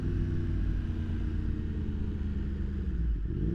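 A 2023 Yamaha MT-10 motorcycle fitted with a steering damper runs at full throttle along a straight stretch on a dam, its engine a dense, continuous low roar mixed with wind rumble, close and steady without voices.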